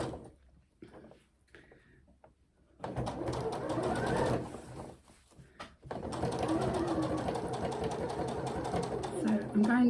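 A domestic sewing machine stitches along the bottom of a fabric advent calendar with fold-up pockets, running in bursts that start and stop, with a quiet gap partway through and faint bird cooing in the background.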